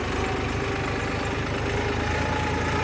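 A four-wheel-drive tractor engine chugs steadily nearby, a loud continuous low throbbing with no talking.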